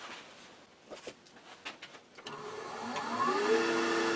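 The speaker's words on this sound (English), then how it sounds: "take a parting cut with a large quarter inch parting tool right here to mark where I'm going to turn to" A large quarter-inch parting tool cuts into spinning wood on a lathe, starting with scattered light scrapes and then settling into a steady, rising close grinding whir with a whining tone.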